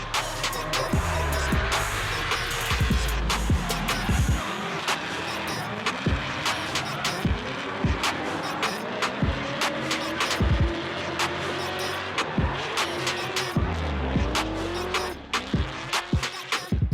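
A drift car powered by a 6.2-liter LS3 engine at 646 wheel horsepower roars continuously, its revs climbing and falling through repeated shifts, with tire squeal and skidding, loud and close throughout.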